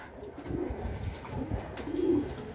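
Soft, low cooing from a racing pigeon at a loft during a race arrival, a few muffled coos close by over faint background noise.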